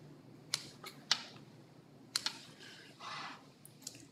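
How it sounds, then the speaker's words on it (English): Scissors snip through excess pie pastry while trimming the edge of a gingered apple cream pie crust, giving a few sharp, close clicks spaced irregularly with a soft rustle of dough between them. "I like to do it with scissors."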